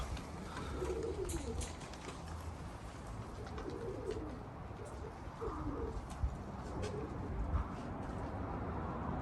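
Pigeons cooing softly in repeated low phrases, with faint chirps and rustling around them, fairly distant and steady throughout.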